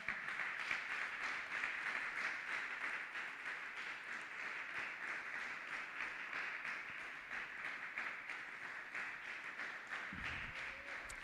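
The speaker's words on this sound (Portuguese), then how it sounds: "Você pode aplaudir ao Senhor?" A church congregation applauds in praise, a steady broadband wash of clapping that runs at an even, moderate level for the whole stretch with no talking over it.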